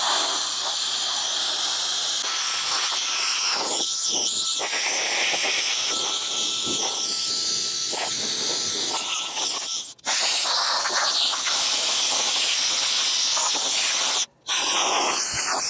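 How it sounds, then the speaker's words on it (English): Compressed air blows on the lower setting into the cracks of a Jeep JK-to-JL grill being prepared for paint. The loud, steady hiss runs almost continuously and drops out briefly twice near the end. "Blow out some of these cracks. Turn on the lower setting."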